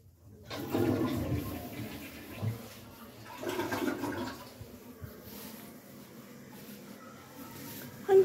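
A household toilet flushes in a bathroom, a rushing surge of water that swells, briefly eases and swells again, then trails off into a quieter refill hiss with no talking.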